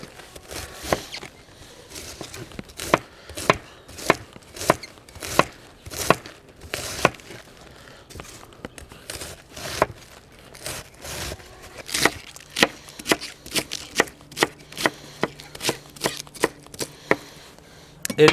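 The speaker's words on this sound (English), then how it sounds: "now what we want to do is slice really, really thin slices" A knife chops rhythmically through cabbage on a wooden board, slicing it very thin for sauerkraut: a steady run of crisp, close thuds and crunches, some quick and clustered, with no talking.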